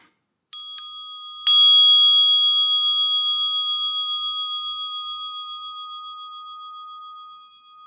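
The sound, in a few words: bell ringing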